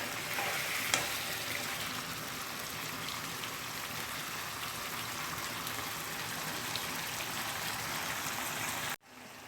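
Chicken karahi frying and being mixed in a pan, a continuous dense sizzle with stirring scrapes throughout, cutting off abruptly at the end.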